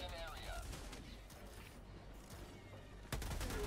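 Gunfire in a Helldivers-style shooter video game, a continuous rattle of rapid shots with a louder burst near the end, heard over faint game noise.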